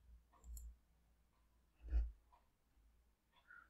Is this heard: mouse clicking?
yes